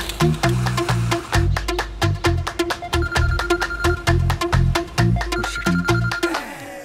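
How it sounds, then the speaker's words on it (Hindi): A mobile phone rings with an incoming call in a Hindi film scene, playing a loud, repeating electronic melody with a steady rhythmic beat for several seconds. "अरे यार छोटे भाई जगिया का फोन है।"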